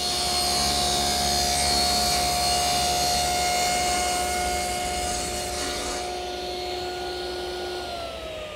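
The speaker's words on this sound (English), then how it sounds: "and then cut it to length." A table saw cuts plywood to length: a loud, steady motor whine with the blade's hum, dropping in pitch as the blade spins down near the end.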